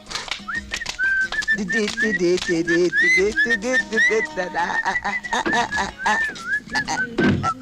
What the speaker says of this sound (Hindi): सीटी बज गई, सीटी बज गई, आ रहा हूँ